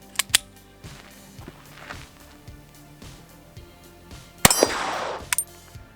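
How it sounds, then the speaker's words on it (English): Sig Sauer P322 pistol shooting Winchester white box rounds, a rapid string of sharp cracks with ringing metallic clangs at the start, then a louder burst of shots near the end, with no talking. "let's go ahead and put some rounds on target and see how she runs"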